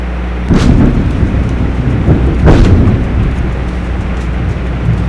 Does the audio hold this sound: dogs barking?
no